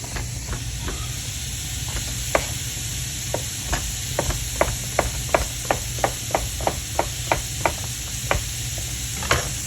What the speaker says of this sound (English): I'll cut this on the bias. What that means is cut a little bit on the angle.